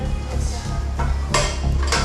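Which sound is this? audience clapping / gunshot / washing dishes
washing dishes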